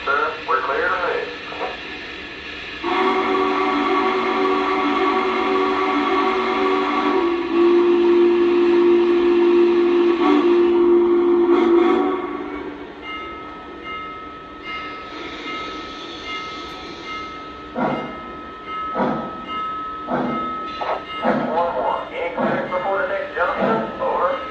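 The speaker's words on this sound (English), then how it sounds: "This train is hooked up and ready to go, sir." Norfolk Southern 611 steam locomotive on the Blue Ridge and Southern Railway: a long, loud sustained whistle tone over steady rumble, then the train getting under way with rhythmic chuffs and clanks, with radio chatter between crew.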